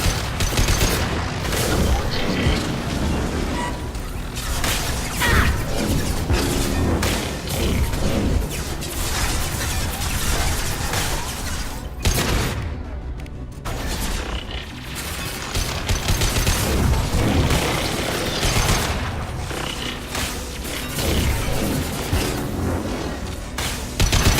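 Sustained heavy gunfire fills a Mass Effect 2 battle, with dense overlapping shots, bursts and booming impacts rattling on almost without pause.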